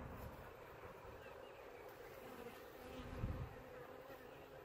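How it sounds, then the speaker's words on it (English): A steady, dense buzz of many bees fills the air nearby, a continuous droning hum that swells slightly as some fly closer. "There's a few bees on the ground here too."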